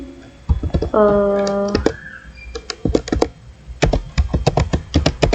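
Rapid keystrokes on a computer keyboard while entering code in Google Colab, sharp clicks in uneven bursts close up, with a brief tonal chime near the start.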